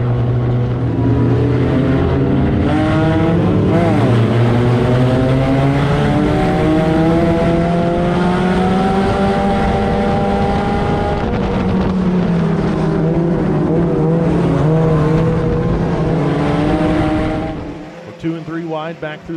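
Race cars roar past on a racetrack during a close battle, loud engines rising and falling in pitch as they pass, with a commentator talking over them before the noise drops away at the end.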